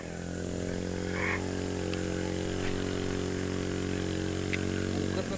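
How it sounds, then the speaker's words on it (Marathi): Boat engine running on a river during a fishing trip, a steady droning motor hum with a strong low buzz that holds even and close throughout, without breaks, and no one talking over it. "तिथं इंजिन चालू कर"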